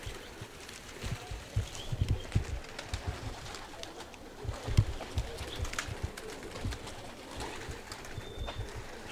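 Pigeons coo and flutter close by amid a busy, scratchy outdoor background, with soft wingbeats and scattered bird calls throughout, at a pigeon event in Naousa, 2024.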